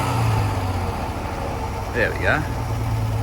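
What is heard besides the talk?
Holden panel van engine starting and idling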